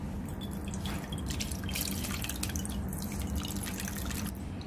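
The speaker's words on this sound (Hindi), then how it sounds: "ग्रेवी के बेस का मिश्रण ठंडा हो गया है, अब हम इसका एक्सेस वाटर ड्रेन कर लेते हैं।" Excess water drains off a cooled gravy base mixture for paneer lababdar, a steady close-up trickle and patter of liquid pouring out.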